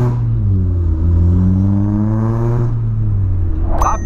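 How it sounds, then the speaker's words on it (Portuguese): A Volkswagen Polo fitted with a sport exhaust revs loudly and close by, its engine note climbing through a sustained rev and then dropping off near the end. "Mexemos no escape do Polo"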